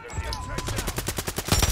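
Rapid automatic gunfire in Call of Duty Warzone 3, a fast run of sharp regular shots building toward the end, close and loud, with game ambience and faint talk around it.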